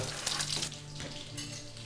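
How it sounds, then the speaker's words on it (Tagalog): Steady sizzling of fish frying in a pan, with a brief burst of running water near the start and quiet clatter throughout. "Katulad niya, nagpiprito ka ng isda"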